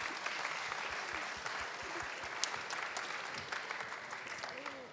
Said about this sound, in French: donc applaudissez-le.